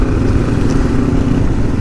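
Yamaha XT 600 Z Ténéré motorcycle engine braking on a muddy downhill, a loud close, steady low engine drone with rough clattering pulses, heard alone with no talk.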